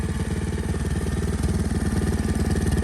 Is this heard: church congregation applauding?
no